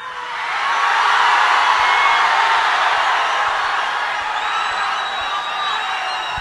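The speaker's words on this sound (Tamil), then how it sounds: "நன்றி உங்களோட அன்புக்கும் கரகோஷத்துக்கும்" An audience at a film interview event for the movie Amaran sends up a sustained wash of applause and cheering. It swells in the first second, then holds steady and loud, with faint whoops scattered through it.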